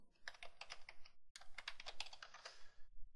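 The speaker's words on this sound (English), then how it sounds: "I'll press the Tab key to move to cell B1 and type the next title" Rapid typing on a computer keyboard while entering column titles into a spreadsheet, a close, steady run of clicky keystrokes with a brief pause midway, then a short burst of heavier key presses at the end.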